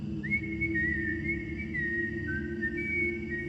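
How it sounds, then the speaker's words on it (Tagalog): Someone whistles a sustained, gently wavering tune, close and clear, over a steady low background hum. "nakamasid lang sa paligid habang sumisipol-sipol"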